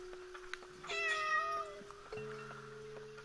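In the horror video game Layers of Fear, a cat meows twice, clearly and fairly close: a rising, drawn-out cry first, then a shorter one, over a quiet backdrop of steady tones.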